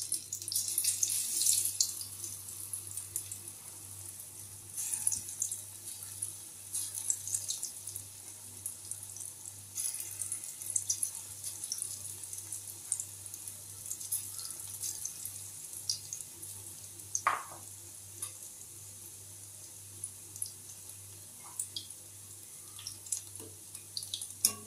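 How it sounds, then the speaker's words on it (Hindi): Corn pakodi sizzle in hot oil, a steady close hiss with small crackles running throughout, with no talking over it. "अब हम छोटी छोटी पकौड़ी तेल में फ्राई करेंगे"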